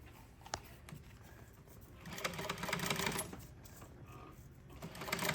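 A sewing machine stitching boat seat upholstery in marine vinyl, heard as a quiet, rapid mechanical needle chatter that rises in short runs and stops, with small clicks and faint room noise.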